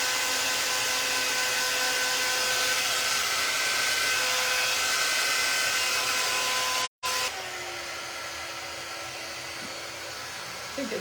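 A hair dryer blows steadily at close range over a painted jello mold pumpkin, a loud continuous whirring hiss that cuts out briefly midway and then resumes at a slightly lower, steadier pitch.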